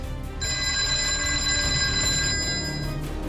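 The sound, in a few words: telephone bell ringing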